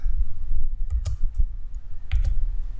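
Quick keystrokes on a computer keyboard while entering a formula in Excel, close and crisp, in two short bursts separated by a brief pause, with no talking.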